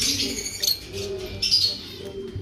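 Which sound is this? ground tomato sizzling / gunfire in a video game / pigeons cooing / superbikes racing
pigeons cooing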